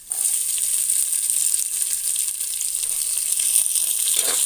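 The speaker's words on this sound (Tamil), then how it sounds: "வெங்காயத்தை போட்டுக்கிறேன்" Onions sizzling in a pan for broken rice upma, a continuous bright, hissing fry that holds at an even, fairly loud level from start to finish.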